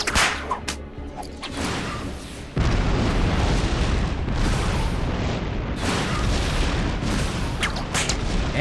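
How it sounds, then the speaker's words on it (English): Grenade launcher blasts boom through a Batman: Arkham City fight, with heavy explosions and bursts. After a softer opening the barrage turns loud and sustained, with repeated detonations layered over one another. "Two-Face has a f***ing grenade launcher."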